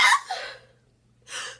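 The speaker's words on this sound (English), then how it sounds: "I've been sneezing like crazy lately." A woman sneezes twice close to the microphone, each a short, sharp burst of breath separated by a brief silence.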